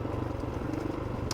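Kove 450 Rally motorcycle fitted with an Uncle Wang exhaust and a mid pipe smashed on a rock, its engine note running as a steady, continuous low drone with a slight rattle, moderately close and alone.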